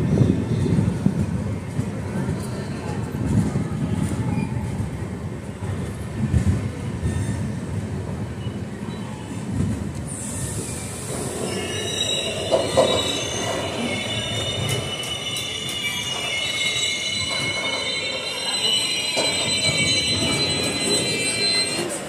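The Valsad–Vadnagar intercity express pulls into Gandhinagar Capital station in Gujarat with a steady rolling rumble of railcars, then grows brighter as wheels squeal and screech along the rails near the platform, with voices faintly in the background.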